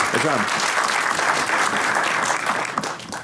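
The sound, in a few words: audience applause for a guest on a comedy show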